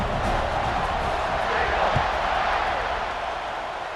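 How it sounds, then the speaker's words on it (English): Stadium crowd in a football video game keeps up a steady, dense roar and buzz, with a commentator's voice over it. "this crowd is buzzing after that last score."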